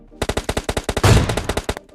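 Rapid automatic gunfire in PUBG Mobile Lite: a loud, close burst of about fifteen evenly spaced shots that runs nearly two seconds and overlaps a heavier blast partway through.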